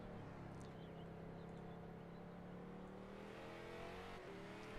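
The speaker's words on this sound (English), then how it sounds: "Connor Hale in the 67 Dynaco machine, running now for his qualifying lap" Onboard engine of the number 67 Dynaco race car on a qualifying lap: a steady, continuous buzzing drone whose pitch gradually shifts and rises, heard fairly quietly throughout with no break.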